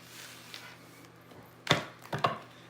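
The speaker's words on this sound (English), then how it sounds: "So, let me shuffle up these cards." A couple of sharp papery riffles, one around the middle and another shortly after, like cards being shuffled, over a quiet low hum.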